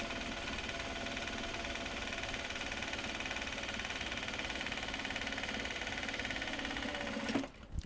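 A sewing machine runs steadily for several seconds, stitching project bags from Japanese fabric with a fast, even mechanical whir close by, then stops abruptly near the end.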